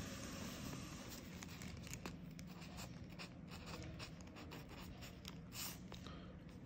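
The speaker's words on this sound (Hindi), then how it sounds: "नाम लिखना है" A pen scratches faintly across paper as a name is written by hand, with soft, irregular strokes over quiet background noise and no talking.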